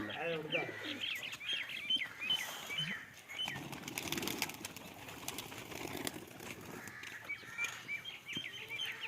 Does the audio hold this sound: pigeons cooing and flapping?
yes